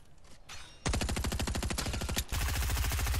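SMG fire in a video game comes as two long, rapid bursts of close, loud shots, the second one heavier, after a short quieter lead-in with no speech.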